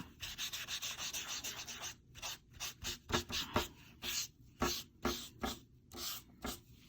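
Chalk pastel rubs across paper in repeated scratchy strokes, close and quiet, first in a quick steady run and then in slower separate swipes with short pauses between them.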